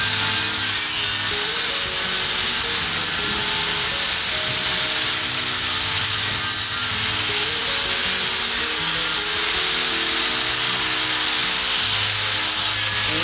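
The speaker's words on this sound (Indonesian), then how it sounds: "lebih baik kita maksimalkan pakai amplas yang pakai mesin ya" An electric machine sander grinds rust off a metal fence, a steady loud whirring abrasive buzz running continuously throughout without pause.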